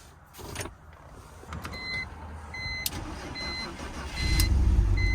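A BMW car is started with a screwdriver: a few sharp clicks and metallic taps come first, then the engine cranks and catches into a louder, steady rumble near the end.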